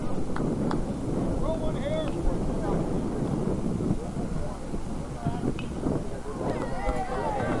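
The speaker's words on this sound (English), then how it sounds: "Wind blowing straight in." Steady wind buffeting the microphone across a high school baseball field, a continuous loud rumbling roar with crowd murmur and voices talking throughout.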